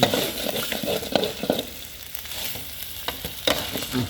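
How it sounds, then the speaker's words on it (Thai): Spicy stir-fried pork belly sizzles and crackles steadily in a pan, with occasional stirring scrapes, close and fairly loud, no talking. "ผัดเผ็ดหมูสามชั้นนะครับ"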